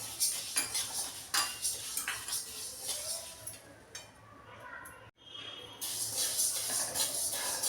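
Urad dal dry-roasting over low heat in a pan, with repeated metallic scrapes and clinks of a spatula stirring the lentils, close and rhythmic, briefly pausing before resuming.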